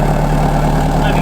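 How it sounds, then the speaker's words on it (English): A Ford ZX3 with a silencer fitted in its exhaust idles nearby, a loud, steady low rumble that holds even throughout, with someone talking over it. "I actually put a silencer in this exhaust."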